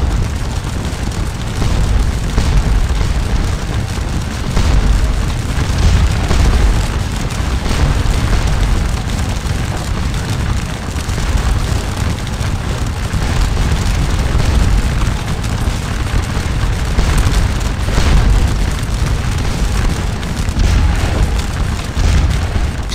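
In the Scourge of War: Waterloo video game, battalion gunfire near Papelotte makes a dense, continuous rumble of booming musket volleys and distant cannon fire. It stays loud and steady throughout, with no voices.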